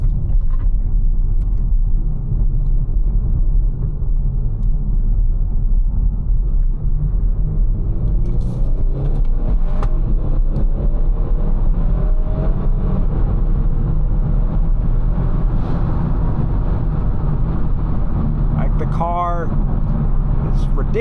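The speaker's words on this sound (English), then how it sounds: "I'll be quiet so you guys can hear the induction noise and do a short pull" A Kia Stinger engine with an E30 ECU tune drones steadily under acceleration, a low rumbling induction roar that builds over the pull, with a voice speaking briefly over it.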